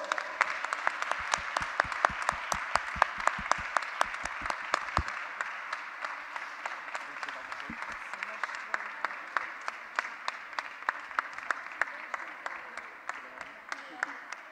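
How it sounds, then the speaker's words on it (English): Applause at a Women Dream Weavers event in Portugal honoring the projects, a crowd clapping in a loose, increasingly rhythmic pattern of sharp hand strikes that keeps going for a long stretch, with voices mixed in. "Please, a big applause for all the projects."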